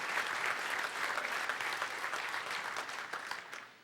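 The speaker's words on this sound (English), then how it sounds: "Hand of applause to all of you" Conference audience at a security convention's closing session applauding together, a dense sustained wash of many hands clapping at steady loudness that tapers off at the very end.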